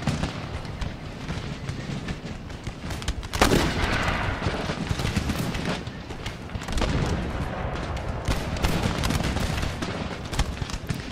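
Repeated gunshots and booming blasts crackle through a continuous noisy battle din in the video game Empire: Total War with Darthmod, some shots sharp and close, others distant.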